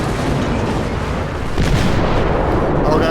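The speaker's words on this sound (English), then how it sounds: "Bring the guns to bear." St. Louis cruiser guns firing in World of Warships, a steady rumbling barrage of booms that stays loud throughout and swells slightly midway.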